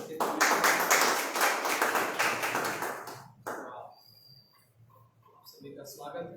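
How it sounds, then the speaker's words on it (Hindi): A church congregation applauds the worship team for about three seconds in a dense, loud burst. It cuts off, leaving a quiet room, and then a voice begins speaking. "हम लोग तालियों से उनका धन्यवाद दे सकते हैं।"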